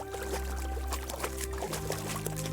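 A horse swims through water in the video game Kingdom Come: Deliverance, with continuous splashing, sloshing and pouring sounds close by under a low droning hum, no voices.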